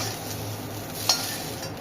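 Potatoes and okra frying in oil in a pan for alu bhindi masala, a steady soft sizzle with one brief clink or scrape of a utensil partway through, no voices.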